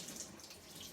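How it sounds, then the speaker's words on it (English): Cold tap water runs steadily over a cucumber in a kitchen sink, a soft continuous splashing hiss with no talk. "So what I'm doing now is that I'm just running it under the tap."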